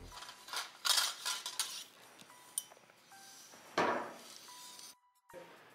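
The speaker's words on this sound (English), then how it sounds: "using the needle nose pliers, grab the cable and pull it out of the slot" Needle nose pliers pulling a cable out of the slot of a Columbia drywall taper, heard as scattered close metallic clinks, scrapes and taps with brief quiet gaps.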